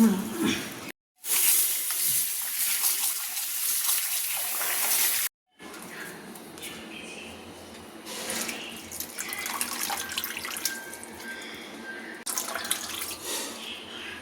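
Tap water runs loudly into a sink while ingredients for potato fritters are washed in a home kitchen; a steady gush breaks off twice, then continues as a softer trickle with light clatter.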